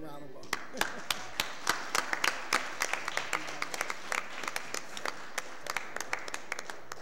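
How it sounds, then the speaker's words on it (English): A meeting room crowd applauding the fire chief at a city board of aldermen session, a steady run of many sharp claps from a sizable audience, with talk over them. "Let's give him a round of applause."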